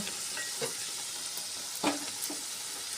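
Ground coriander, cumin and other spices sautéing in a pan for banana kofta curry, giving a steady, close sizzle of hot oil with a few soft stirring scrapes and no talk.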